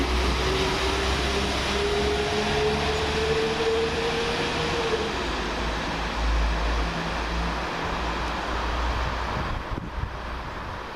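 Class 172 diesel unit 172334 bound for Stratford-upon-Avon via Whitlock's End, a low rumbling roll with a long rising whine, heard alongside steady wind buffeting the microphone.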